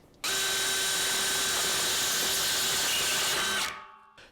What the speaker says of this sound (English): I'm using Milwaukee's black oxide stepper bit that's optimized for high-speed drills